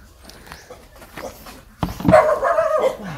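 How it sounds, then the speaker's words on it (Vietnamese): A dog barks and whimpers in a Mekong Delta countryside setting, a few loud close yaps in the second half after quieter rustling noise. "Anh mày cũng sủa nữa hả mày?"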